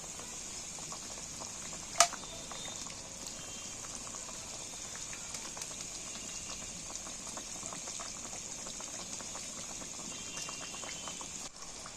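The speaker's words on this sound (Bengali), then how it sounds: "দেখো মাছ তুলে দিয়েছি এইবার একটু মাছটা সেদ্ধ হলেই আমার রেসিপি রেডি" Hilsa fish simmering with boiled potatoes in a spicy liquid, a steady soft bubbling and hiss that runs throughout, with one sharp click near the start and no talking.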